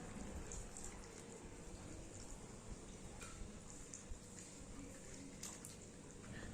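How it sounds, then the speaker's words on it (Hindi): Sliced potatoes and radish being rinsed in water two or three times, a steady close wash of splashing and sloshing liquid that runs continuously without any talk. "दोनों को पानी डाल के 2 से 3 बार साफ पानी से धो लेते हैं"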